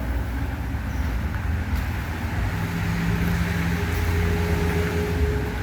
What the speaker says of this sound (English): you get the sound of the cars passing on the road